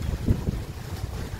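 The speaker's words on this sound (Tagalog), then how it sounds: "Malakas po yung hangin" Gusty wind on a road buffets the microphone in a low, steady roar with brief louder bursts, close and rough.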